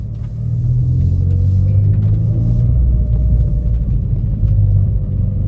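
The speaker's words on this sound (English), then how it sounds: "gonna try and talk over the car. She's pretty noisy. Finally got full exhaust on it." A Hyundai Veloster N engine idles with a deep, throaty rumble through a full exhaust, loud and steady throughout, with slight surges in revs.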